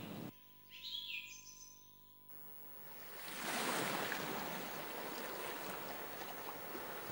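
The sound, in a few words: waves on Papani beach, Mayotte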